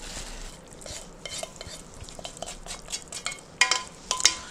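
Cooked glass noodles for japchae are tossed with sauce in a large bowl, giving soft, irregular wet squishes and light clinks of utensils, close and fairly quiet, with a few sharper scrapes near the end and no talking.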